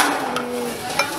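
Butter, sugar and flour are mixed for biscuit dough in a bowl, giving a short burst of close scraping and clinking, with a sharper knock near the end.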